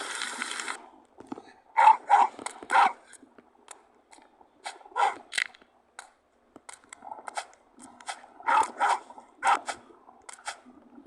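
A dog barks in a horror video game, sounding as several separate bursts of sharp barks spread through a mostly quiet stretch, heard at a moderate level with nothing else prominent.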